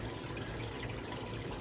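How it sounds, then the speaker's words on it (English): A damp part from a Neptune Trident NP mini being dipped into RODI water, giving a soft, close, continuous pouring and trickling wash with no voices. "all I'm going to do is just dip it in some RODI water"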